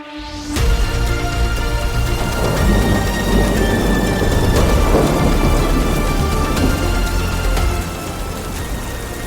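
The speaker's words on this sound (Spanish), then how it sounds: "Una violenta tormenta" A violent thunderstorm erupts, loud thunder rumbling over driving rain and wind in a dense, continuous roar that swells after a quiet opening and eases slightly near the end.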